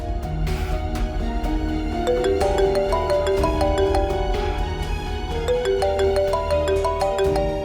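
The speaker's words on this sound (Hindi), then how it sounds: "फवाद का फोन है क्या?" A mobile phone rings with a melodic electronic ringtone, its bright repeating note pattern playing steadily and loudly for several seconds without a pause and with no voices over it.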